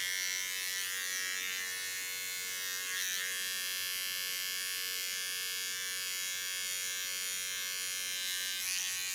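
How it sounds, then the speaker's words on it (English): An electric hair clipper held upside down trims lines into a woman's hair, giving a steady, close, high buzzing hum that runs unbroken throughout. "I hold my clipper upside down, so my blade's only leaning on the piece."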